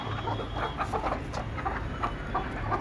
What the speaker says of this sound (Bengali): সবগুলা কোচা মুরগি।